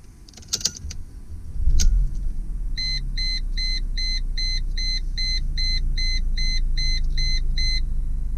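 A 2003 Mercedes C230 Kompressor with a supercharged 2.3L engine cranks with a few clicks, catches and settles into a steady low idle, while a chime beeps in a regular pattern inside the car.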